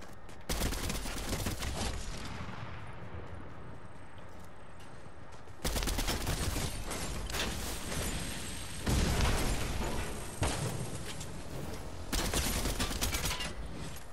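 Dense bursts of gunfire from the video game Fortnite, with rapid fusillades and explosive blasts in several loud waves, separated by brief quieter stretches.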